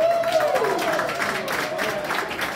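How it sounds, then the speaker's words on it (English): A room of guests at a blockchain investment event applauds the host, with steady scattered clapping and a murmur of crowd voices beneath. "Can I get a round of applause?"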